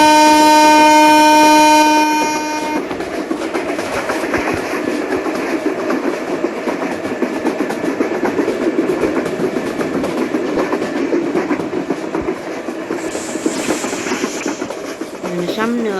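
Subarna Express in Train Simulator Bangladesh: a steady horn-like tone opens, then the loud rolling rumble and rhythmic wheel clatter of the moving train carries on without pause, with talk over it.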